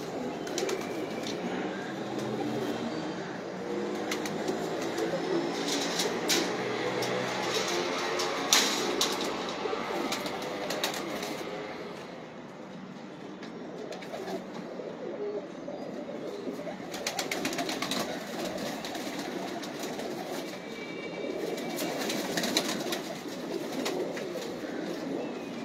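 Soft pigeon cooing from a fancier's flock runs through a steady ambient hum, with occasional brief wing flaps and no clear voices.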